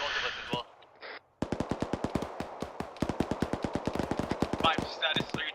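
Rapid gunfire in Arma 3 during a squad firefight, a dense run of sharp, evenly spaced shots lasting several seconds after a brief lull, with radio-style chatter at the start and end.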